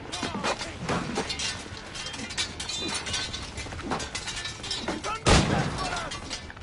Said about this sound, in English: shoot those two scouts